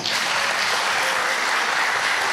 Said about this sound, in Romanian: vă rog să și aplaudați